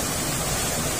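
Dense, steady rushing water fills the air, a constant broadband roar like a nearby waterfall with no breaks.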